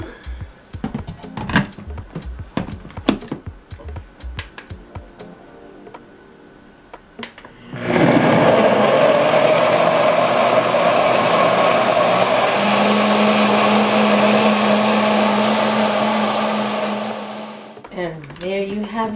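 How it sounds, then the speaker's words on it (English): After a few clinks and some talking, a blender starts and roars loudly and steadily for about ten seconds blending a pineapple, apple and citrus smoothie, then winds down. "now we're gonna pop that in our blender"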